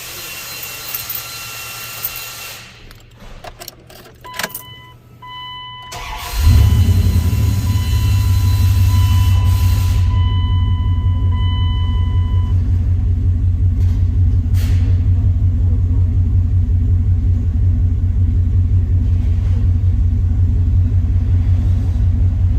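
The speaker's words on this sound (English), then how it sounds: "Now I'm going to start it back up, see what kind of oil pressure we get." A 2001 Dodge Ram 5.2L Magnum engine after a deep engine cleaning and oil change cranks, catches, and settles into a loud, steady low idle rumble that continues alone for over fifteen seconds.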